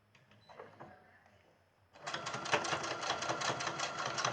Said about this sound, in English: So I'm going to stitch this down.